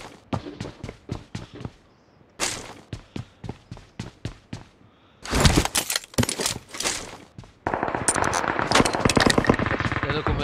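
Machine gun fire from a shooter video game, loud and close. It comes in several rapid bursts separated by short pauses, then turns into a longer sustained stretch of continuous firing.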